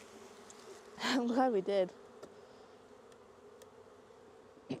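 Honey bees buzz around an opened hive, a steady droning hum running under a short stretch of nearby talk, with the swarm sound continuing faintly once the voice stops.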